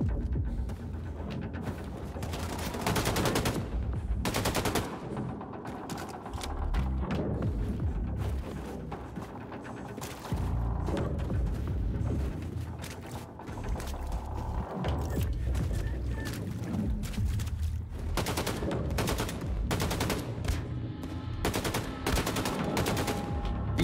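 Wolfenstein 2: The New Colossus gunfire: rapid bursts and single shots from in-game weapons with explosive booms, loud and dense throughout, with no voice over it.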